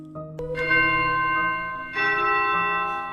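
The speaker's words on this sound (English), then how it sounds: "Ringing, much like church bells, echoed from within the house for a moment, before returning to silence." A doorbell chimes inside a house, sounding like church bells with rich, resonant ringing tones. Two sustained strikes ring out loudly and close, each decaying slowly, with no voices.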